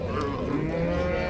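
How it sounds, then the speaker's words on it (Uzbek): A cow at the Kitob livestock market lets out one drawn-out, fairly close moo, layered over a low murmur of crowd and market bustle. "Mana sigir."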